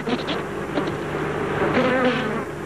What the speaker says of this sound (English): these solitary bees, they also spend their days alone, but always congregate at the same roosting place every night.